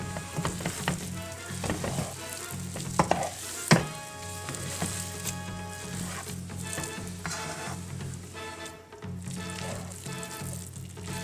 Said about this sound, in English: Now it's pretty much done, so I'm just going to stir it up a little bit, get the soy sauce evenly distributed